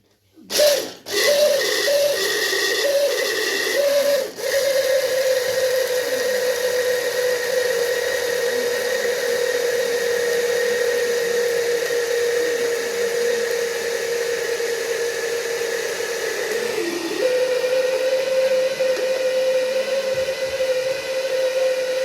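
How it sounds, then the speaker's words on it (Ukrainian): A kitchen blender grinding peanuts into peanut butter, a loud, steady high-pitched motor whine with a brief dip at startup and a shift in pitch near the end, running alone without talk. "Ви закладаєте в блендер і починаємо збивати."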